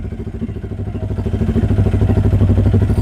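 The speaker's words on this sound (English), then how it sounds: "Here's the sound, exhaust sound." A 2024 Bajaj Pulsar N250 motorcycle engine runs steadily with a deep, thumping, bassy exhaust pulse, loud and close, growing slightly stronger toward the end.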